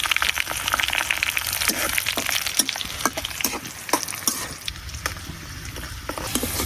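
Garlic, bay leaves, dried red chillies and garam masala fry in hot oil for a sweet-sour olive pickle, giving a steady crackling sizzle broken by sharp scraping clicks of stirring, close and loud, with no talking.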